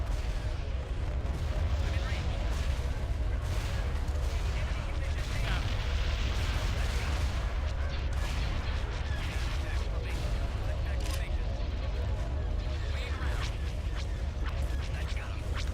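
Artillery fire in a modded video game, a continuous dense barrage of booming blasts and rumbling explosions that holds loud and steady throughout with no clear pauses.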